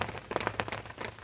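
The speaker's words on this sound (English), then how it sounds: "It is raining." Steady light rain patters on a surface on a morning, a soft continuous crackle of drops, fairly close and moderately quiet with no voices.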